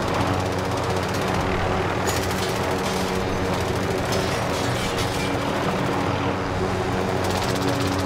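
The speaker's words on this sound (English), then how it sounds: "The helicopter is landing on us." A dense, continuous rotor thump and engine roar of a helicopter landing close overhead in the video game Call of Duty: Modern Warfare, with rapid rattling bursts mixed into the noise.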